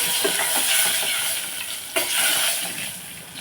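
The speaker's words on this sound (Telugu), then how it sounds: "వెల్లుల్లిపాయలు వేపేసుకొని" Garlic sizzles steadily in hot oil for a dal tempering, a dense, close crackle with soft stirring scrapes and one brief sharper burst partway through; no one speaks.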